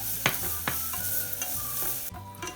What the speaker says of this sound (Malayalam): എന്നിട്ട് അതിൻ്റെ കളർ മാറുന്നത് വരെ നന്നായി വഴച്ചെടുക്കുക.